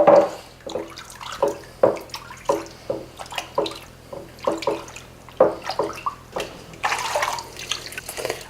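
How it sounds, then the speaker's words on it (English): A knife-sharpening stone rinsed under a running tap, with water splashing and dripping in an uneven, pulsing rhythm, close and fairly loud with no talk. "I'm just rinsing the stone."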